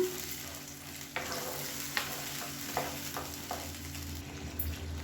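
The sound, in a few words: tomato onion paste sautéing in pan for sambar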